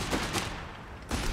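Gunfire in the video game Company of Heroes 3, British forces in multiplayer battle: loud close bursts of rapid shots, two quick volleys then a pause and another burst, with no talking.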